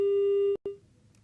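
A telephone busy signal on a call-in phone line: a steady, clear tone holds for about half a second, then cuts out briefly before a short second burst fades away.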